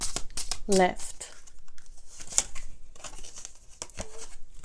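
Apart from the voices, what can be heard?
shuffling and drawing tarot cards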